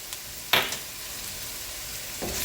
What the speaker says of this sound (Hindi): इस सब को मिक्स करेंगे और मसालों को थोड़ा सा भूनेंगे।